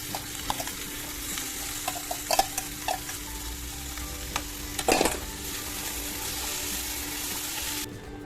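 Boiled vegetables for pav bhaji fry and are stirred in a pan, a low steady sizzle broken by scattered clinks and scrapes of a spatula, with a few sharper knocks midway.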